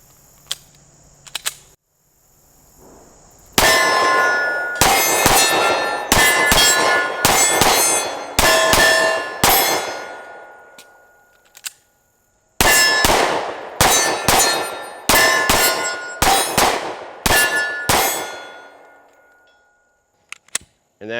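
A Springfield XDM Elite Compact 10mm pistol fires Hornady Critical Duty 178-grain rounds in two strings of sharp, loud reports, each with a ringing metallic tail, spaced about half a second to a second apart and separated by a short pause.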